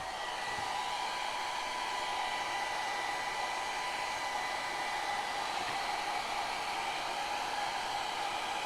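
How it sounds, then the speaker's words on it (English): A hair dryer blows steadily on a craft project, a constant even rush of airflow with a faint hum, unbroken and fairly quiet throughout. "let me blow dry this real quick"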